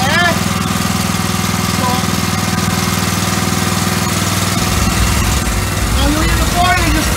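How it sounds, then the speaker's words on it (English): A boat's engine starts and settles into a steady, loud, close mechanical idle with a thick low throb, while someone briefly speaks over it. "what we'll do is start the engine now, so you might still hear me."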